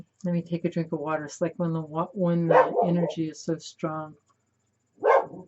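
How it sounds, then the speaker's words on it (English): A dog barks in short, sharp bursts close by indoors while a person keeps talking over it. "And excuse my dog"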